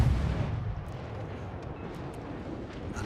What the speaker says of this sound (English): I've been detected as a result and coming under fire from secondaries.